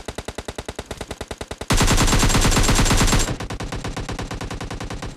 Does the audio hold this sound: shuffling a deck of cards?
no